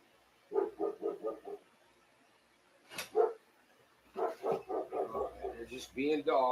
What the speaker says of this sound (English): I want to see what the dogs are going all nuts about.